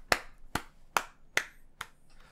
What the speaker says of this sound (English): Now I'm clapping.